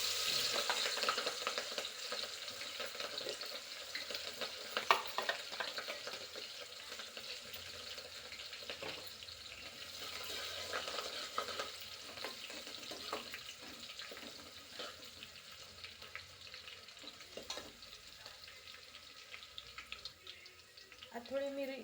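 Garlic, cumin and chili paste fries in a pan with a steady, soft sizzle and hiss that runs throughout, broken by occasional light scrapes and clatters.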